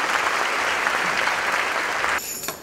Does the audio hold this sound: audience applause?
yes